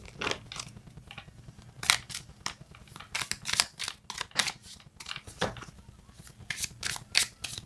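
Tarot cards are shuffled close by in repeated riffling bursts, crisp flutters that start and stop in an uneven rhythm.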